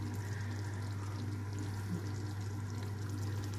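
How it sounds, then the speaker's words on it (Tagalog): A small amount of water is poured into a cooking pot while dinner is being made, a steady soft splashing pour over a constant low hum, with no talking. "tapos lagyan natin ng konting tubig"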